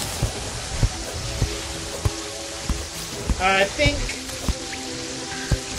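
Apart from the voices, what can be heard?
rain falling in Terraria video game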